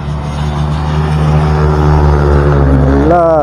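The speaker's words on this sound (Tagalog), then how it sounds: "ingay ng mga motor." Loud, steady engine drone with a low rumbling hum that holds constant, then a rising whine near the end, like motorcycles revving close by.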